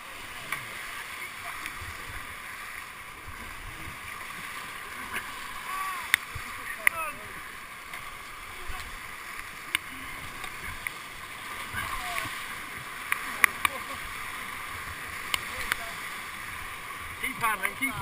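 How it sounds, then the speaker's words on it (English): Rafters paddle a raft down a river, with steady rushing water and scattered splashes from paddle strokes throughout, while people call out over the flow. "Keep paddling."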